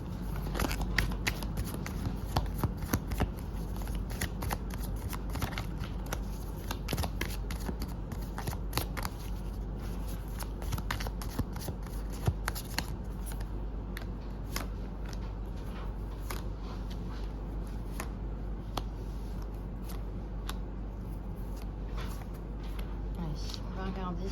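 Tarot cards are shuffled continuously with a soft riffling and slapping, close by, under a steady hum and a voice speaking French throughout.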